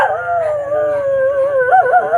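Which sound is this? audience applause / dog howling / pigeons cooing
dog howling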